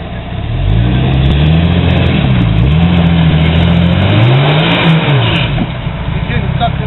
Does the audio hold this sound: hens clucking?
no